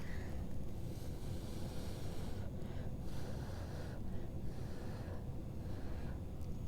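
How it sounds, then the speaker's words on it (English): Breath blown across wet blue acrylic paint during fluid pouring, a steady close rush of air buffeting the microphone, continuous and fairly loud throughout with no talking. "Just gonna blow the blue a little bit right here."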